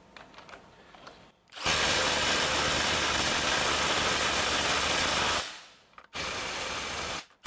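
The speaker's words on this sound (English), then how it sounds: "I'm going to let these hammer or impact for 5 seconds each on each one of these fasteners" A Milwaukee M18 FUEL 2853 cordless impact driver whirs and hammers fasteners loudly in a long continuous burst, stops briefly, then starts again for a shorter run.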